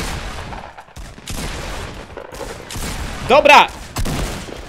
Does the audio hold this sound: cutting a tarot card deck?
no